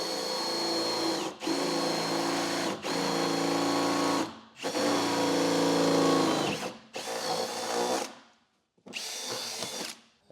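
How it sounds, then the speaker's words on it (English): A power drill bores a hole through the bed of a 2018 GMC truck for an under-bed gooseneck hitch, loud whining bursts stopping and restarting several times, close up. "And I'm going to drill with a smaller bit and then check underneath, make sure it's all in the center."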